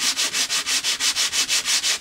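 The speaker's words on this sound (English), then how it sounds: "I just got this really rough sandpaper out here" Rough sandpaper scrubs a rosewood bridge on a Gibson J40 guitar in fast, even back-and-forth strokes, about eight loud rasping passes, close and with no talking.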